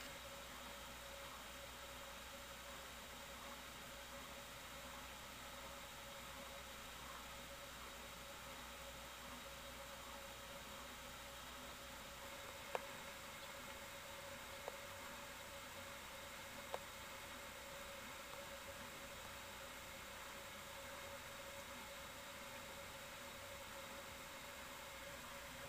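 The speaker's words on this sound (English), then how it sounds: "It may make lots of bearing sound, but it sure doesn't hum at all." A 1991 Canarm PF-36 36-inch fan runs at low speed with a steady, even whoosh of air, a faint hum and a few soft clicks from the bearings, with no voices.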